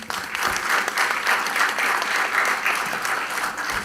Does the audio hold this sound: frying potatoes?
no